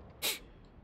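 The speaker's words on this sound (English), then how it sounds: "I gotta sneeze again." A single quick, sharp sneeze bursts out close by, one brief loud hiss against a quiet background during a Company of Heroes 3 console gameplay session.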